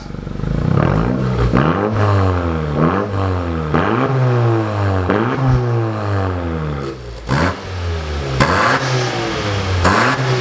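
A Honda car engine with a new exhaust revs repeatedly, the pitch rising and falling in quick throaty bursts through the loud exhaust, close and continuous.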